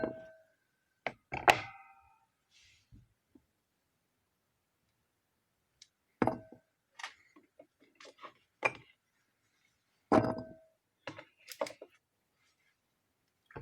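Small, very hard wild apples are cut with a knife, giving sparse crisp clicks and thunks, a few clustered strikes separated by quiet gaps, close up.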